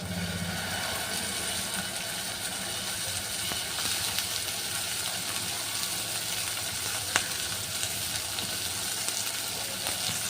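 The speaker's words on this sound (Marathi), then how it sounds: "आता हे घालूया कॉर्न्स लगेचच घालून घेऊया कॉर्न्स" Corn kernels frying with onion in a pan, a loud, steady, dense sizzle that holds evenly throughout with a faint tick now and then.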